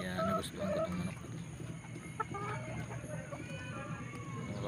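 A black-clawed fighting rooster with two wins clucks softly in the dark, close by, in short scattered calls under a person's steady talking.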